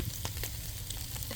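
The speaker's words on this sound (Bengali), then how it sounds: "আমি হালিম বসানোর জন্য এই যে তেল দিয়ে দিলাম আর পেঁয়াজ দিয়ে দিলাম পাতিলের মধ্যে" Onions fry in oil in a cooking pot for haleem, giving a close, steady sizzle with faint crackles and no talking.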